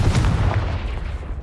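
Confringo explosive spell cast in the Hogwarts Legacy video game, a deep booming blast with a rumbling low tail that fades over about a second and a half, loud and close.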